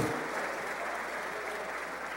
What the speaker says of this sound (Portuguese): Se eu fosse você, eu aplaudia o Senhor.